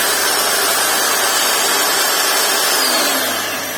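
A DeWALT DWE1622K drill press motor runs loud and steady up close, a constant whirring drone with no pauses that eases off slightly at the very end.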